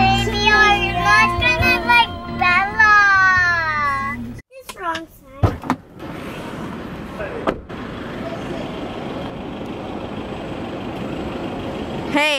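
Road traffic with trucks and buses heard from inside a car, a steady rumbling hum of engines and tyres that takes over after children talk and sing at the start.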